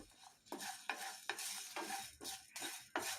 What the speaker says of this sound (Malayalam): രണ്ട് ഏലയ്ക്ക രണ്ട് ഗ്രാമ്പു ഒടുവിലായിട്ട് ഇതിലേക്ക് രണ്ട് ചെറിയ കഷ്ണം കറുവപ്പട്ട കൂടിയിട്ട് നമുക്കിത് നന്നായിട്ടൊന്ന് മൂപ്പിച്ചെടുക്കാം